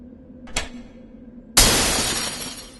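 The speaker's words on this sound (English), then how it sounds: "You should work on your aim if you are trying to kill me with a pane of glass." Pane of glass shattering in a video game: a short crack, then a loud, bright burst of breaking glass that sprays and rings out over a second, with no voices.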